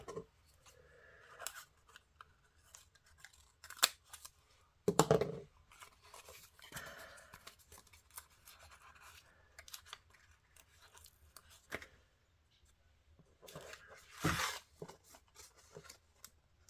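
Scissors snip paper for a collage in a few short, crisp cuts, with one louder burst early and another near the end, set among quiet paper rustling and handling.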